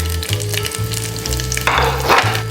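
Garlic frying in a generous pour of oil in a pan, a loud continuous sizzle with bursts of spitting and stirring scrapes, no voices.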